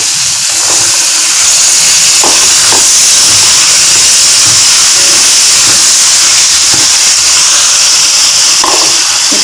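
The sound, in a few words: potatoes added to hot pan, sizzling and steaming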